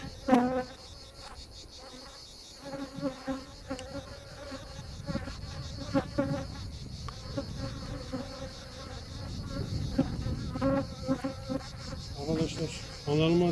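Dense buzzing of many honeybees close by at an open hive, rising and falling in loudness, with no voices.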